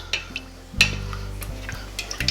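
Stirring oils together for a homemade menthol chest rub: a utensil clinks and scrapes against a container in a few distinct taps and swirls, close and clear, over a low steady hum.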